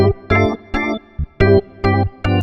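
Crumar Sorrento organ set to its spinet voice, a budget Hammond-style tone, plays seven short sustained chords in a choppy rhythm, close and fairly loud with brief gaps between stabs.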